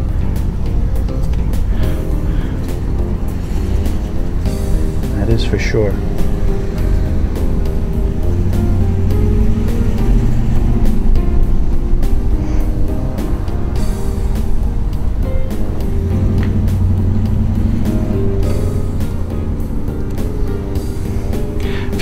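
2007 Jeep Grand Cherokee Overland Hemi 4x4 driving and accelerating, a steady close engine drone and road rumble with gear changes, under a few brief spoken words.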